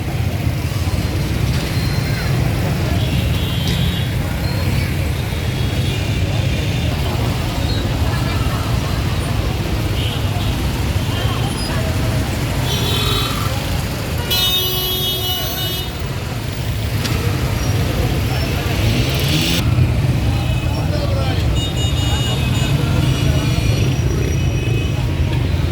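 Heavy traffic jam in Qissa Khwani Bazaar, Peshawar: a constant roar of engines and road noise, with scattered horn toots and a few sharp honks, while a person talks nearby.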